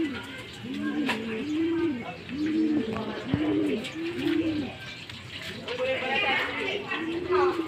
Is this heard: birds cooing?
yes